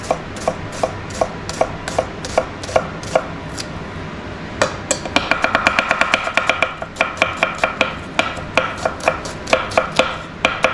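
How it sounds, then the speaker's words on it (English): A knife chops onions on a cutting board with crisp, close, even strokes, first spaced, then quicker and denser in steady rapid runs. "I'm just showing you different ways of cutting onions"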